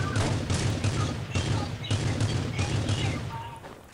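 Rapid bursts of gunfire from the game Rules of Survival crackle in dense volleys, with a steady electronic hum underneath and faint voices mixed in.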